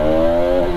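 A Bajaj Pulsar RS 200 BS3 motorcycle engine revved with the throttle, a brief, loud, close buzzing engine tone that holds steady for under a second.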